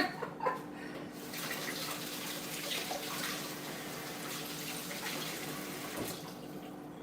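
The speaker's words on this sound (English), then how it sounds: "Now I gotta wash my hands." Hands are washed with hand wash under a running tap, with a steady rush of water and some splashy changes as the flow is disturbed, heard close and with no talking.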